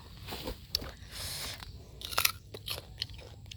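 Fresh date palm fruit being chewed close up in an orchard, with crisp crunchy bites followed by wet chewing and several sharp crackles, no voices.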